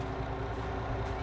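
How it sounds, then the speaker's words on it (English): A truck in a farming game idles and rumbles as it backs up, with a steady low engine drone and faint repeating tones that could be reversing beeps, sounding close and continuous over about a second. "I have to move the truck just a little bit more back"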